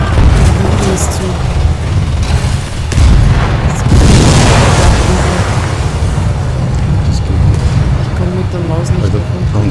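A tank blowing up in the Ghost Recon Wildlands video game: heavy booming explosions and rumbling blasts roll on continuously and loudly, with players talking over the din.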